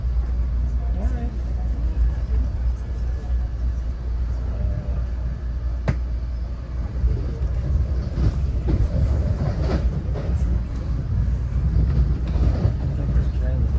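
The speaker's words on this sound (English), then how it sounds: "I think this train is on the express for sure." Commuter train ride from Penn Station in New York City toward Iselin, New Jersey: a constant low rumble and rattle of the moving rail car with occasional clicks and clatter, steady and close throughout.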